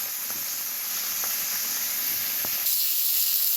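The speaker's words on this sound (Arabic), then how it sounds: "احنا مش عايزينها تنزل ميتها، احنا عايزين نديها تشويحه كده ونصدمها من على الجنبين" Pieces of meat sear in a hot pan over high heat for an okra casserole, giving a steady loud hiss and sizzle with a few soft pops scattered through.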